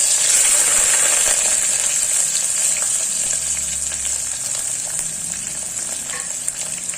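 Curry leaves, onion and green chili frying in hot oil for a wheat rava kichadi, a loud, steady sizzle and crackle that eases slightly over seven seconds, with faint stirring clinks and no voices.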